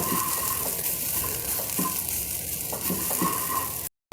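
Grated mature coconut dry-roasting in a pan with no water or oil, a steady crackling sizzle with scraping stirs throughout, close and fairly loud, ending in a brief silence.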